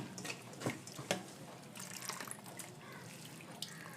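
Dried shrimp being washed by hand in water, with soft splashes, sloshing and trickling, a couple of sharper swishes near the start, fairly quiet and close.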